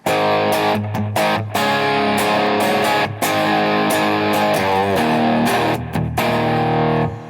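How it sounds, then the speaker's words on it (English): A crunchy, distorted Jagster electric guitar on the bridge pickup plays loud chords and riffs with a bright, biting tone and brief stops between phrases. "Here's the sound of the Jagster crunch on the bridge pickup."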